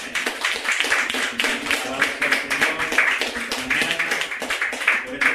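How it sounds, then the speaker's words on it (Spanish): Applause for the Holy Spirit at a church healing workshop, many hands clapping in a dense, steady patter that runs the whole time, close and lively, with some voices mixed in. "démosles un aplauso al Espíritu Santo"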